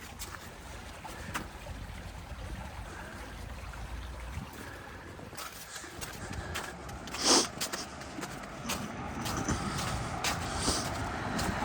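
Peaks Hole Water, a stream running through Castleton, flows with a steady low wash under a quiet outdoor scene, with a few brief louder knocks and rustles nearby.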